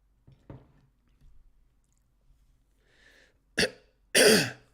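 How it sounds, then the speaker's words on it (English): A man nearby clears his throat and then gives a harsh cough, two sharp bursts at the end that follow a few faint mouth and breathing sounds in an otherwise quiet room. "I keep clearing my throat and coughing, and it's not getting any better."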